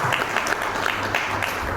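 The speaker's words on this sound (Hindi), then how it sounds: "मैडम के लिए और साथ में हमारे तीनों जो हैं उनके लिए तालियां होंगी" Applause from a group at a training session, a steady wash of many hands clapping at moderate volume with no pauses throughout.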